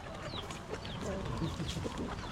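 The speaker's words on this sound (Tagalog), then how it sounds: "Yung mga manok naman na nagbudil fight oh." Several chickens cluck and chatter close by, with overlapping short calls and a few squawks against faint background noise.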